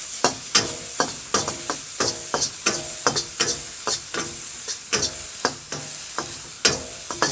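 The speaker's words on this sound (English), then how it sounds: "After we fry this up a bit" Onion and garlic frying in a pan for fried rice, with a loud continuous sizzle punctuated by rhythmic scraping strokes of a spatula, close and without speech.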